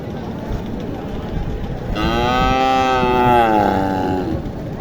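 A Sahiwal cross cow lets out a long, loud moo over a steady background of crowd noise at the Mataji cattle market in Naogaon, Bangladesh.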